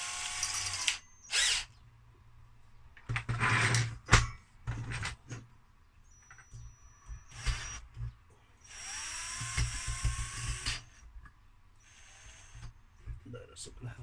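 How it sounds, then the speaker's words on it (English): Several bursts of a power drill whirring on and off, close by, with short pauses and some clattering between runs. "Let's try the drill again."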